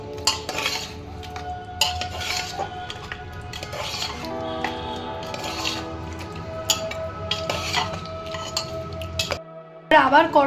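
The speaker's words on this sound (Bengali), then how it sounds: "খুব ভালো করে এটা মিশিয়ে নেবো গরম তো অটোমেটিক্যালি ঘিটা গলে যাবে" Chicken being stirred with ghee in a pot for a Dhaka-style tehari, metal spoon scraping and clinking against the pot in irregular strokes over a faint sizzle, with background music or tones and a short break near the end.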